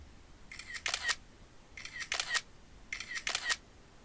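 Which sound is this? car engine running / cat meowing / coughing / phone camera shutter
phone camera shutter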